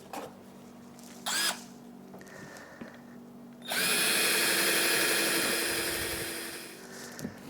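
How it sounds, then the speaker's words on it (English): A cordless power drill boring holes into the bottom of a plastic seed-starting container, a short trigger burst then a sustained high whine lasting several seconds before winding down, close and clear. "I'm going to use my drill and put some holes in the bottom."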